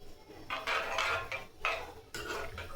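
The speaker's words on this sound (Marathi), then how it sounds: "आता यामध्ये काजू, बदाम आणि खोबरं टाकून व्यवस्थित मिक्स करून घेऊ।" A spoon stirs cashews, almonds and coconut into vermicelli kheer in a metal pot, making a close series of scraping and clinking strokes in an uneven rhythm, with no talk.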